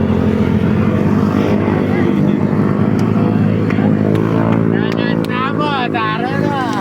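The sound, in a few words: motorcycle engine running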